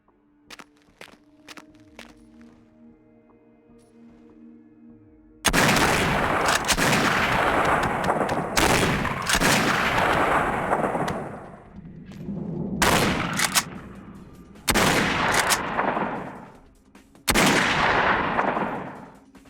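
Heavy shotgun blasts in Vampire The Masquerade Bloodlines loaded with magnum rounds, four or five loud booming shots spaced a few seconds apart after a quiet stretch of faint clicks and steps.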